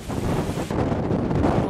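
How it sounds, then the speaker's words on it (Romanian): Strong wind roars steadily during a storm on a street thick with blown dust, buffeting close against the microphone in a continuous loud rush with brief gusty swells. "pentru că bate vântul din față"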